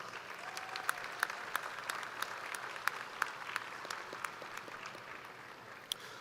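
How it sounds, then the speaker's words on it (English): A graduation crowd at Carl Wunsche Sr. High School gives a round of applause, a soft distant wash of many hands with a few sharper individual claps standing out. "Let's give a big round of applause for our Board of Trustees."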